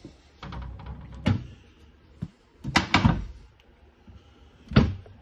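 Cabinet doors with magnetic latches inside a 2021 Riverstone Legacy 383MB fifth-wheel trailer close with several separate sharp thunks and clicks, loud and near, spaced out across the span. Quiet gaps fall between the closings, and no voices are heard.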